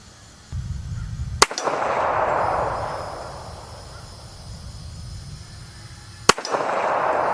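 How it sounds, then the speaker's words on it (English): Two loud, sharp handgun shots fired at steel targets crack several seconds apart over a low, steady outdoor background noise. "I'm getting much better at firing these handguns"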